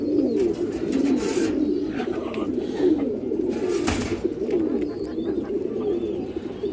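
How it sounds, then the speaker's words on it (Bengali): Old-breed Bagha pigeons, young flying birds of the down-shape type, coo steadily in low rolling, overlapping calls throughout, close and fairly loud, with occasional brief rustles. "দুটোই ডাউন শেপের, একদম পুরান জাতের বাঘা কবুতর দর্শক"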